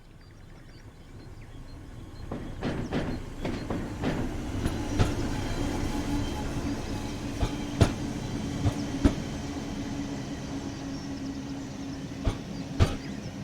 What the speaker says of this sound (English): Your train has arrived.